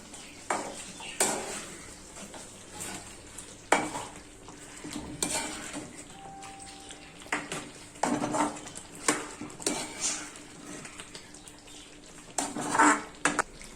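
A spoon mixing garam masala into dum aloo in a pan, with repeated scraping strokes and frequent metallic clinks and taps against the pan, moderately close and steady throughout.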